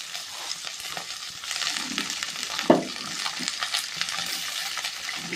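Mixed vegetables for a 21-vegetable sambar, including banana stem, sautéing in a pan, a steady close sizzle and fry with occasional stirring scrapes and one sharp utensil knock midway, no talking.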